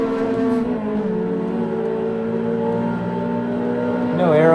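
A Ferrari 360 engine on the Nordschleife wails steadily through a triple downshift, its pitch stepping and blipping, then rising sharply near the end. The sound is loud and continuous, with no talk over it.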